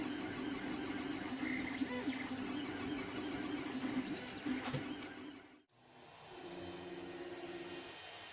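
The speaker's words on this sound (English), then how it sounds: "now is the time to test how the printer sounds like with new step motor drivers." A Creality Ender 3 3D printer running with new stepper motor drivers gives a steady whirring hum with faint rising and falling motor whines, then a brief pause before the quiet drone resumes.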